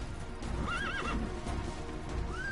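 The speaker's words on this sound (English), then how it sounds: "Use your horse." A horse in the Metal Gear Solid 5 video game lets out a loud, wavering neigh over the steady clip-clop of galloping hooves, with a second whinny rising near the end.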